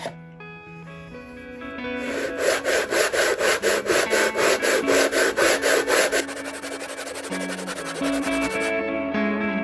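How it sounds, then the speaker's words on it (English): Rhythmic rasping strokes of 80-grit sandpaper on a wooden guitar part, fast and even back-and-forth scrubbing, close and loud, with a tonal musical background. "take some sandpaper. It's one sheet of 80 grit"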